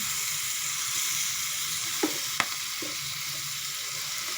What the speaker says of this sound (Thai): แล้วก็คอยผัดไป